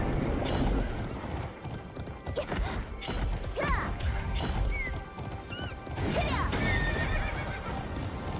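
Horse whinnying and galloping during a race, rising neighs over a busy wash of hoofbeats and crashing noise, with excited voices cheering in the background.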